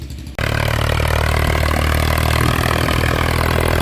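A Swaraj 855 tractor fitted with new 14.9-28 tyres kicks from near-silence into a loud, steady engine roar with mechanical clatter, running continuously and close by, pulling a tiller.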